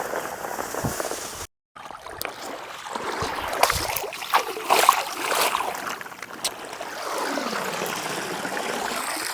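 Stream water flowing near a farm washing spot, a steady trickling and gurgling wash close by with a few clicks and knocks and a brief dropout, no talk.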